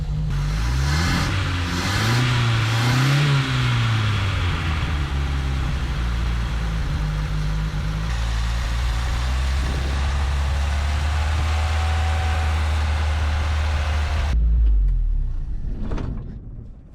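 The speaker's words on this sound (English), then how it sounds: "she stayed running long enough to get warmed up" An old truck last tagged in 2005 runs and idles loudly close by, a steady low engine drone with a few revving swells early on, then cuts out near the end, leaving a brief rustle.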